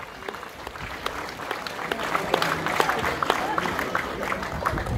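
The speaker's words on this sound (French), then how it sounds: "Applaudissez-les bien fort." Audience applause at an inauguration ceremony for a tour of Marie-Galante, a steady field of claps building slightly in density and staying fairly loud throughout, with a few louder individual claps standing out.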